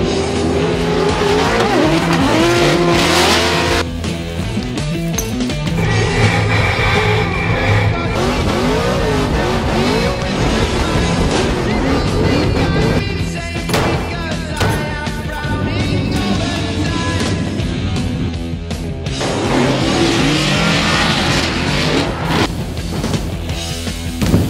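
A car driving hard after a round of a racing event in Atlanta, with a loud, continuous engine roar, repeated revving and squealing tires, recorded close up with no talk.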